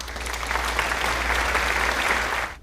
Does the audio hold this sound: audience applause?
yes